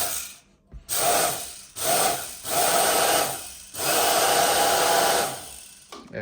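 Small electric hair dryer switched on for a test run after its carbon brushes were replaced, a whirring motor hum in several short bursts separated by brief silences, close by and fairly loud.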